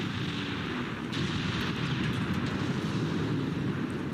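Naval artillery shelling in the Ultimate Admiral: Dreadnoughts battle at the Denmark Strait, Bismarck and Hood exchanging fire, a continuous low rumbling roar with distant booming shell impacts layered underneath.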